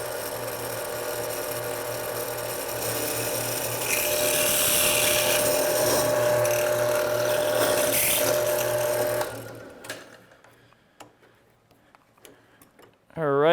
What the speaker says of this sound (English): Let's drill it.